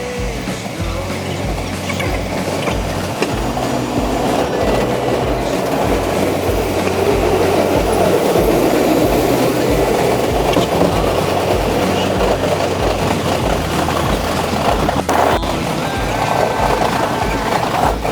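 A New York City subway A train runs on outdoor rails toward Far Rockaway, with a steady rumbling roll and rhythmic clickety-clack of wheels over rail joints throughout, close and continuous.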